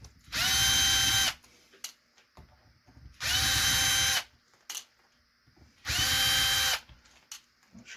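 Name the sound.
power drill driving out chassis screws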